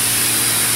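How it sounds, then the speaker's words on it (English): A mini car wash sprayer blasts water at a car in a steady, close, loud hiss that fills the moment without break. "Spray the car."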